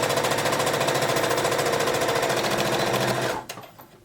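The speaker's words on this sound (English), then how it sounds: "sewing that seam allowance down" A sewing machine runs steadily and loudly, stitching down the seam allowance along the back of a dress, with a fast continuous rattle that stops abruptly near the end.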